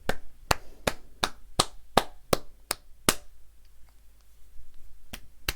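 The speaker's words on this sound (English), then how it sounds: "You just carry on clapping, yeah?" Slow, deliberate claps near Anthony Joshua's confrontation with university students: about nine evenly spaced, sharp claps, then a pause and two more, crisp and close against a quiet background.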